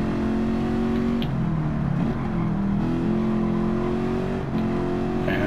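Ford Mustang Mach 1 engine in the video game Gran Turismo, a loud, steady drone that rises and falls slightly with throttle, heard alone without any voices.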